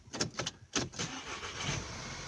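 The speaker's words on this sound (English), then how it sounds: "So I would try to start the car up." A 2012 VW CC sport with a gateway control module fault cranks over in a few quick bursts, then catches and runs roughly for a moment, loud and close with no talk.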